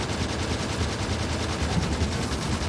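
Sustained rapid gunfire in Factorio, shooting at biter spawners on a death world map, runs as an unbroken fast stream of shots at steady loudness.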